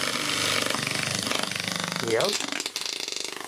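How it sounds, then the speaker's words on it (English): An old CMG electric motor runs with a steady, rapid mechanical chatter close by, and someone speaks briefly over the running noise. "It's running quite well, that motor."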